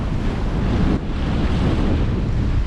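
Gusty wind buffets the microphone over steady wash of waves while a 20-foot boat sails solo on a broad reach near an offshore wind farm; a continuous, loud, rushing roar without talk.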